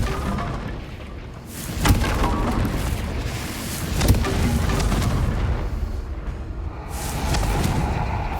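A Confringo blasting curse explodes in Hogwarts Legacy, giving sharp booming cracks near two and four seconds over a dense, rumbling bed of game noise and crackling debris.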